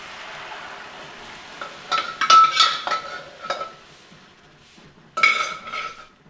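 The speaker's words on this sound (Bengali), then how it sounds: "এবার শাক দিয়ে ডালটা আমি কিন্তু এতে মিশিয়ে নিব" A metal spoon scrapes and clanks against a pot as chickpea-leaf greens are stirred into dal, in two separate bursts of close, clattering strokes with quiet gaps.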